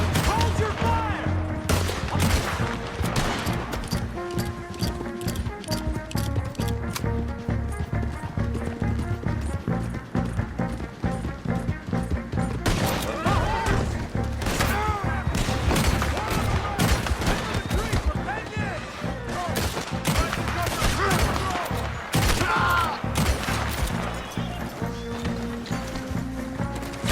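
Gunfire rings out in the video game Red Dead Redemption 2: rapid, repeated sharp shots over game music, mixed with galloping hoofbeats and shouting voices throughout.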